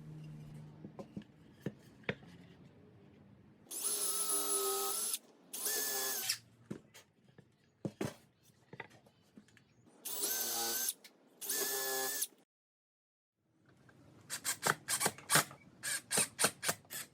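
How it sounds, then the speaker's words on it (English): Power drill boring countersink holes into wood for a chair brace, several short bursts of high whining drilling separated by pauses, followed by a run of rapid clicking ratchet-like pulses near the end. "I will drill two countersink holes on the allocated marks."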